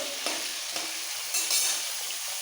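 Chunks of papaya, potato and carrot fry in oil in a pan for Bengali sukto, with a steady soft sizzle and a few scraping stirs of a spatula. No one speaks.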